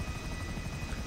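A helicopter in the game GTA 5 Online gives off a steady rotor thrum and engine drone, a continuous whirring roar heard alone.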